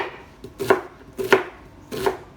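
Knife scoring an onion on a wooden cutting board while preparing Italian sauce with meatballs and sausage: three crisp chopping taps, close and distinct, with short pauses between.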